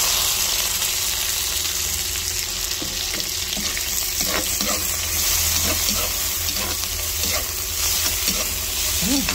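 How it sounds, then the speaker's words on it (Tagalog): Shrimp frying with white onion in a hot pan, a steady loud sizzle running throughout with scattered scraping stir strokes from a utensil, no voices. "Then, lagyan na po natin yung ating shrimp."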